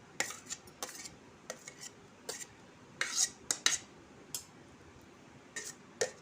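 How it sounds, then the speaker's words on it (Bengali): Chopped carrot, onion, cucumber and green and red chillies are tossed together in a bowl, giving sparse, light clinks and taps of utensil against dish, fairly faint and irregular with no talking. "কাঁচা লঙ্কা, পাকা লঙ্কাটাকে আমি একসাথে মিক্স করে নিচ্ছি।"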